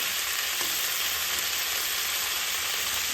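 Blanched broccoli frying in a pan, producing a steady, continuous hiss of hot oil sizzling at close range, unbroken and alone, with no voices.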